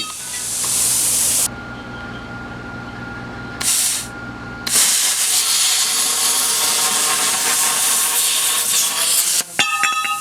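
Harbor Freight plasma cutter slicing metal: a steady hissing, rushing arc with a constant whine. It starts and stops, then continues at length, with a clattering burst near the end.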